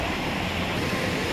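A fast, slippery mountain stream rushes loudly and continuously at close range, its broad, even roar filling the whole moment with no voices.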